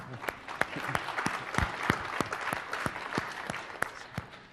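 A small conference audience claps in a brief, moderately loud burst of applause with distinct individual hand claps.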